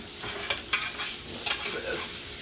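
Garlic parmesan crusted chicken sizzling on a hot skillet, a steady close frying hiss with a few sharp scrapes and taps of a utensil, no voices.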